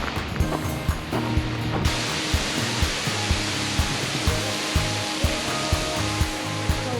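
Mountain waterfall fed by melting snow, a loud continuous broadband roar of rushing water, close and steady, with faint rhythmic clicks running underneath.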